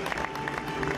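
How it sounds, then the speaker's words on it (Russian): A short burst of audience clapping at a scholarship award ceremony, busy and uneven, with some crowd murmur and what may be a voice mixed into the brief ovation. "Громче овации."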